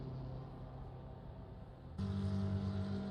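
A BMW race car engine in the racing game Assetto Corsa Competizione on the Nordschleife hums with a steady, buzzy drone, then steps up abruptly to a louder, higher pitch partway through.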